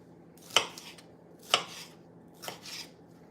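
Knife dicing a yellow bell pepper on a cutting board, three crisp chops about a second apart, close and clean against a quiet kitchen.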